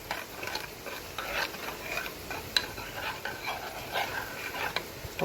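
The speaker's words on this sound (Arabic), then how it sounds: "ونقلب" Homemade tomato ketchup stirred in a pot on the stove gives quiet, repeated scraping and swishing strokes with faint clinks and a low simmering sizzle, close by.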